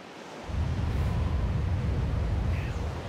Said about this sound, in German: Und dann wird das Ding hier wieder voll Wasser laufen.